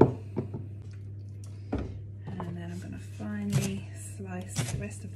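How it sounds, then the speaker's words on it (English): A knife slices through a leek on a cutting board, giving a few soft, irregular cuts close by under a steady low hum, with brief scraping noises in between. "Slice the rest of the leek and add that into the pot as well."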